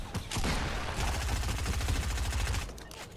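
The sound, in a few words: gunfire in a video game shooter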